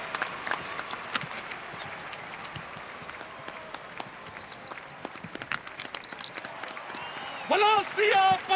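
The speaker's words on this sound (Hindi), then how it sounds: "जोरदार तालियों के साथ स्वागत कीजिए" Audience applause welcoming a drama company at a Ramlila stage performance, a steady crowd of clapping throughout, with a voice calling out loudly near the end.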